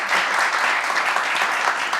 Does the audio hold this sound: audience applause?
yes